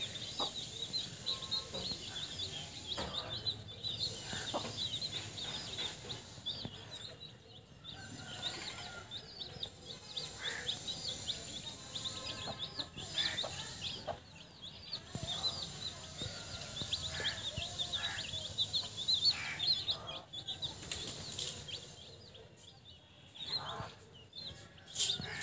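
Newborn country chicks chirp in a steady stream of high, thin peeps, near and fairly loud, as they drink water from the floor, with faint talk now and then underneath.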